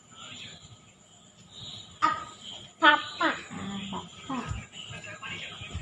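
A dog whimpers and gives a few soft yips while people talk nearby in a quiet room.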